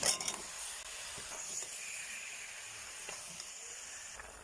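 Bottle gourd pieces go into hot spiced oil in a Bengali prawn and gourd curry, giving a soft sustained sizzle and hiss with a brief louder burst at the start, then steady and faint, no talking.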